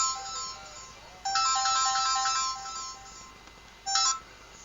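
A phone's melodic ringtone plays in repeating bright tonal phrases, fairly close and clear, with a short gap between bursts and no talking over it.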